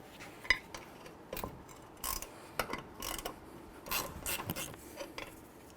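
Ratchet removing a brake caliper bolt on a Chevy Silverado, quiet close clicking and scraping metal sounds in short irregular bursts, with no talking.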